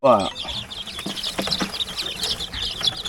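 Chickens cluck and peep in scattered bursts nearby, mixed with rustling and a brief spoken voice at the start.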